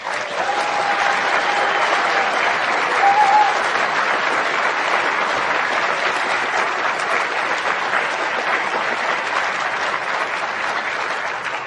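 Sustained applause from a large audience at an occupational health conference opening session, steady dense clapping filling the room throughout, with a faint tonal whistle near the start.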